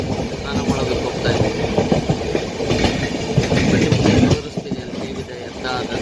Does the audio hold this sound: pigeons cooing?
no